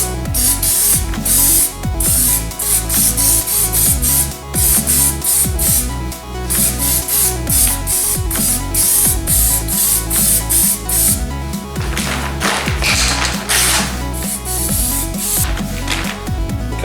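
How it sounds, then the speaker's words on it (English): An aerosol can sprays a light first coat of paint onto a sanded, scratched car wheel during repair, a loud close hiss in long steady bursts with brief pauses. "We are going to aim just to give it a light dusting of paint to begin with"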